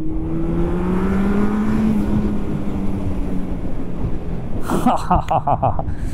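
A Yamaha XJR four-cylinder roadster engine revs loud and close at high rpm, its pitch rising and then settling. A brief burst of other sound comes in near the end.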